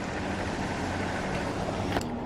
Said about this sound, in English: and the sound of the Zealous bearings.